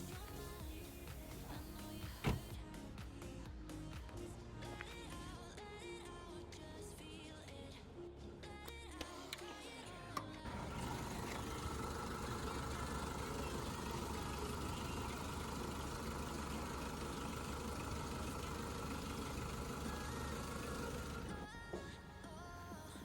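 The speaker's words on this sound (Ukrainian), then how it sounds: "відкриваємо капот і виходимо на двір, щоб ви послухали, як працює сам двигун" A 2007 Renault Megane 2 with a 2.0 petrol engine idles outdoors with the hood open. A steady, even hum grows noticeably fuller about halfway through and then holds constant, with no one talking.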